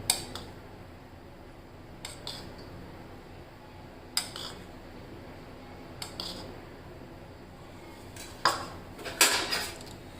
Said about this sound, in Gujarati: અને છાશમાં એને સારી રીતે ઓગળી જાય ત્યાં સુધી આ રીતે હલાવીને મિક્સ કરી લઈશું.